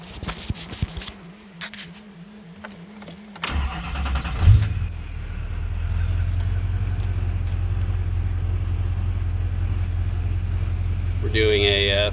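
A 600-plus horsepower LB7 Duramax diesel pickup with ported heads, 45-over injectors and an upgraded turbo, heard with key fiddling and a starter crank, then the engine catching and settling into a loud, steady close-up idle rumble.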